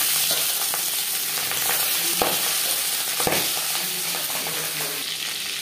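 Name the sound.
pangas fish frying in hot refined oil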